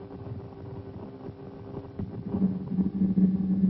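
A ground surveillance radar (AN/TPS series) produces a Doppler audio return from a moving target: a low droning hum with a steady tonal line that grows louder and busier partway through, with no speech.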